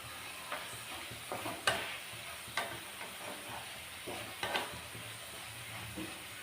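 French fries frying in a pan for a child's school tiffin, giving a steady soft sizzle with occasional sharper crackles and spatters, moderately quiet and close, with no talking.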